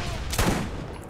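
Gunfire in the shooter game Borderlands, a single loud burst in the middle over a steady noisy game background.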